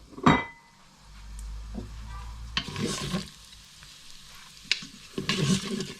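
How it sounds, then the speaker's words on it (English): Whole spices (cloves, star anise, black cardamom, fennel, cumin seeds and cinnamon) frying in oil in an Instant Pot, with soft sizzling and a few sharp stirring clinks against the pot, close and fairly quiet. "Get that in there and give it a fry for a couple of minutes until it starts smelling lovely."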